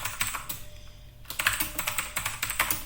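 Rapid close clicks of a computer keyboard as a git log command is typed, a short burst, a pause, then a quicker run of keystrokes.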